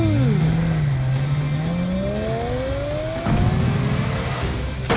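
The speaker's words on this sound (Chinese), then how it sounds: "赶紧开车走啊。 OK 使劲踩油门，" A van in the video game Knives Out accelerates, its engine note rising in pitch and revving steadily upward with a loud, continuous game-engine whine.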